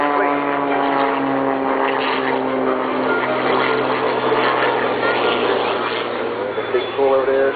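An aerobatic propeller airplane performs at an air show in Rochester, NY, its engine droning loudly and continuously with a shifting pitch, while an announcer's amplified voice talks over it.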